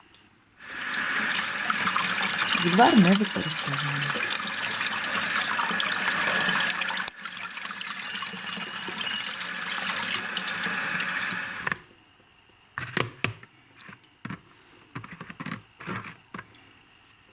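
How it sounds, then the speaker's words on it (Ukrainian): Steady cold running water pours for several seconds over boiled glistening inkcap mushrooms being rinsed, with a brief voice over it, then stops, leaving scattered clatters and splashes. "гриби зливаємо і промиваємо холодною водою"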